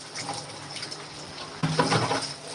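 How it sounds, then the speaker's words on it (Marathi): Water gushes from a tap, a steady splashing flow that grows louder and fuller partway through, close by with no voices. "नळ नळ चालू करून ठेव"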